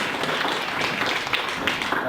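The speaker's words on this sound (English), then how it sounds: "let's give Derek a round of applause and thank you very much" An audience at a talk applauds the speaker, a dense, even patter of many hands clapping for a brief moment.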